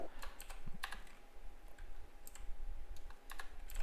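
Typing on a computer keyboard, a sparse string of light key clicks in short bursts, close but faint over a steady background hiss and faint hum, with no voices.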